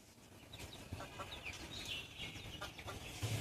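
A mother hen clucks softly and repeatedly, with small chirps from her chicks nearby; quiet, close outdoor sounds.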